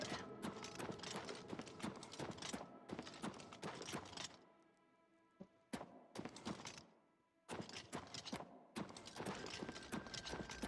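Horse hooves clip-clopping in a steady rhythm while riding in the Oblivion Remaster video game, loud and close, with a brief quieter pause midway before the hoofbeats resume.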